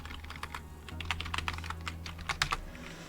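Quick, irregular clatter of typing on a computer keyboard while writing code, close and fairly clear over a low steady hum, with bursts of keystrokes and short gaps.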